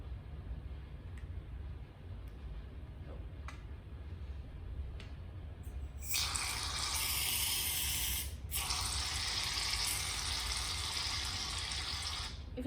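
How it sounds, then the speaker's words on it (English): Shaving foam sprays from a shaken aerosol can for a rain cloud experiment, a loud steady broadband hiss starting midway, briefly breaking once before continuing to the end. "let's spray it in very carefully"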